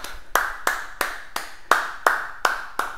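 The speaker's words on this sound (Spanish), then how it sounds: "vamos a darle todos un aplauso a Ignacio Souza" During an online webinar, a single pair of hands claps eight times in a slow, even rhythm, each clap sharp and close with a short decay and near silence between.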